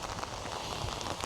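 Rain falls steadily in a village deep in a forest, a dense close hiss of drops hitting surfaces, even and unbroken, no voices.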